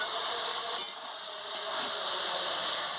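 Fish head curry (chorchori) sizzles steadily in a pan after the lid comes off and it is stirred, a close, continuous bright hiss with a couple of faint scraping knocks early on.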